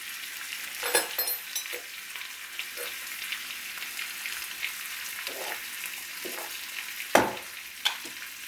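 Oil sizzles and crackles in a pan while prawn biryani is cooked, with a steady hiss and occasional stirring scrapes and sharp pops, close and moderately loud, with no talking.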